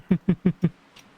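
A pigeon in a video game gives four quick, low, evenly spaced coos close up, followed by a short faint sound and quiet.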